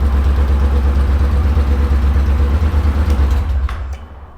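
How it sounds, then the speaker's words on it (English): A Triumph Bobber motorcycle fitted with a Motone H-Bomb exhaust, baffles removed, roars loudly and steadily close by at high revs, then drops off toward idle near the end. "Wow, that was 5000 RPM. Guys, it's insanely loud."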